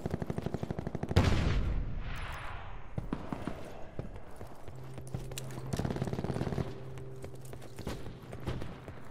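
Gunfire in the Call of Duty Black Ops 4 video game, a rapid burst followed by scattered shots and clatter at moderate loudness, with game effects around it.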